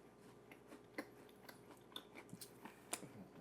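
Close, quiet crunching and chewing of a pistachio chocolate cookie, a Dubai-style Levain cookie with kataifi. Irregular crisp bites and crackles are spread over a few seconds, with no talking.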